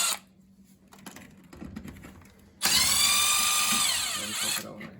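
A power drill removing screws during an air conditioner install, a loud, close whirring burst lasting about two seconds with a pitch that rises and falls, after quieter handling noise and some low voices.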